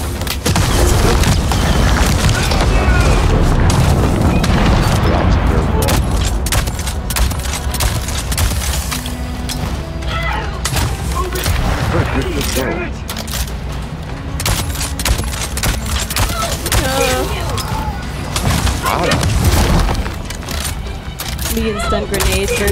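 Repeated booming stun grenade blasts and bursts of gunfire fill a dense, chaotic firefight at a large base in Avatar: Frontiers of Pandora, loud and continuous, with people talking over the noise.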